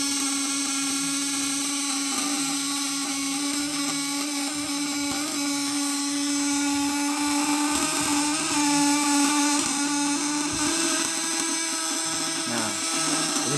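A PDC electric fish stunner inverter running at full power gives off a loud, steady high-pitched whine that holds unbroken for the whole stretch, with no talking over it.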